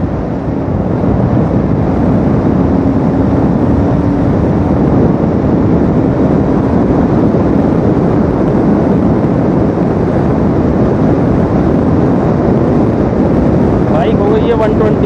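A Royal Enfield Super Meteor 650 motorcycle at about 120 km/h gives a steady, loud rush of engine and wind noise that holds the whole way through, with no talk over it.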